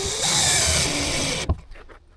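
Power drill driving screws into an electrical panel in a storage cabin, one continuous loud whirring run of about a second and a half that stops abruptly, followed by faint handling clatter.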